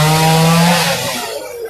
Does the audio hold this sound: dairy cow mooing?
no